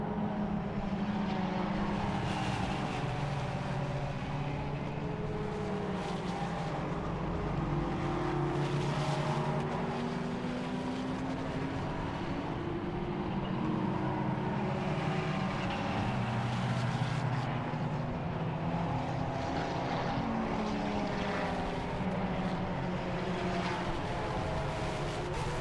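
Race cars, including Ginetta and Porsche entries, roar around Silverstone during a Britcar endurance race, engines rising and falling as they pass at a distance, forming a continuous faint mechanical drone.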